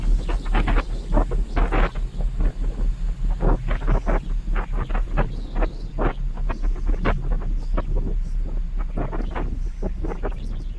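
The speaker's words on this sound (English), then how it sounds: "Forgive the wind" Wind buffets the microphone on the open outer deck of an overnight ferry in Japan, a loud continuous roar with gusty low rumbling and irregular bursts throughout, with no voices.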